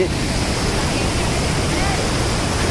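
Waterfall near Mawryngkhang, Meghalaya, a steady broadband rush of falling water that fills the whole clip, loud and constant without any break.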